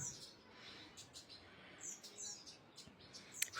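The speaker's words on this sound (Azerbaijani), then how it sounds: "Quşların səsi." Small birds chirp outdoors in the countryside near Zaqatala, with scattered faint high tweets over soft ambient background noise and no voices.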